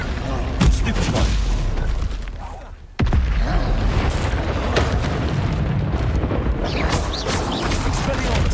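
Stupefy spell fired in combat in Hogwarts Legacy, booming magical blasts and bursts in quick succession over game noise, with a sharp drop and a sudden loud hit midway; a voice shouts spell names.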